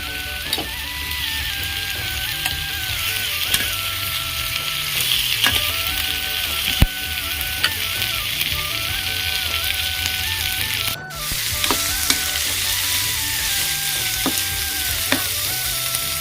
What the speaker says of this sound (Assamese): ইয়াতে মই মাংসখিনি এতিয়া ভাজি ল'ম।